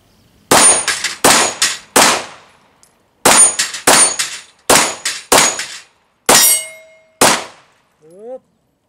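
SIG P320 X5 9mm pistol shots ringing off steel targets, about a dozen sharp cracks in quick groups, each followed by a bright metallic ring, close and loud, with a short pause midway.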